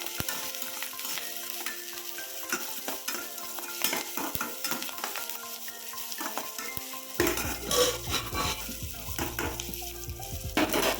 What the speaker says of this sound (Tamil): இது ஒரு 2 மினிட்ஸ் நல்லா வதக்கிடுங்க.